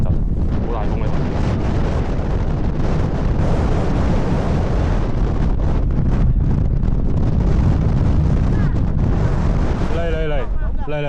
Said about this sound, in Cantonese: 好大風呢度